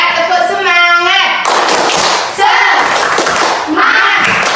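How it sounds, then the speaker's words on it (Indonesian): Primary school children in a classroom perform the rhythmic 'tepuk semangat' clap chant, chanting together in bursts with sharp hand claps between sung phrases, loud and close. "Tepuk semangat dulu ya"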